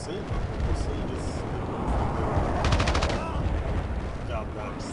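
Gunfire rattles through a Battlefield Play4Free match, with dense, continuous bursts of shots and explosions over loud battlefield noise, while a voice talks over it.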